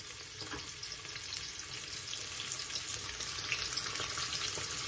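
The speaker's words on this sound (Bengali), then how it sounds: "পাত্রের মধ্যে আমি প্রথমে তেল দিয়ে দিলাম, তারপরে পেঁয়াজগুলো দিয়ে দিলাম।" Onions fry in oil in a pot, giving a continuous soft hiss and crackle that stays steady and gradually grows slightly louder, close by and without talk.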